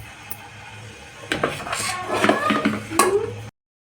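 Cooked rice being mixed into puliyogare in a pan, with a spatula scraping and knocking against the metal in uneven strokes, close and moderately loud.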